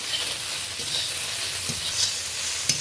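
Okra being stirred and fried in a wok (kadai), a soft steady sizzle with faint scraping of a spatula and a small clink near the end, with no voices.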